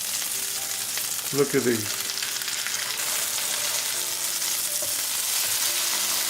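Coconut-breaded chicken breasts fry in a pan with a continuous close hissing sizzle, and a brief spoken remark cuts in early before the frying carries on alone.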